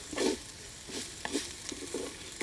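Grated coconut roasting in a pan for an ash gourd buttermilk curry, heard as soft, intermittent scraping and stirring bursts with a light crackle, close and fairly quiet, no talking.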